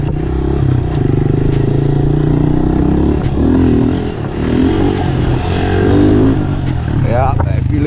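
A Honda CRF110F pit bike runs on a ride with fat handlebars fitted. Its small engine drones loud and steady, rising and falling as it revs, with wind noise and some clatter, and a voice talks over it.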